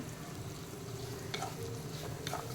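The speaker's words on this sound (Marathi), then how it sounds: "याच्यावर झाकण ठेवून आपण हे दोन ते तीन मिनटं परतून घेऊयात जेणेकरून आपला हा फ्लॉवर थोडासा सॉफ्ट होईल" Cauliflower for upma sautés in a pan, a steady low sizzle with two brief scraping stirs near the end, close and fairly quiet, no talking.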